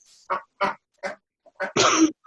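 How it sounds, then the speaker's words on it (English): Pet ducks at a window give five short, honking quacks, close and clear. The quacks come in a broken rhythm, the last one longer and louder, with quiet in between. "So those are my pet ducks at the window."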